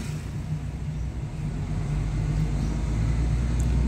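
Used car engine revving with RPM climbing while the car barely gains speed, a steady low drone rising gradually in loudness, with road noise and no talking.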